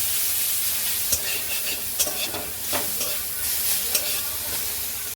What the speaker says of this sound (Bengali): সরষা তেল দিয়ে দিলাম দিয়ে একটু ভাজা ভাজা করে নেব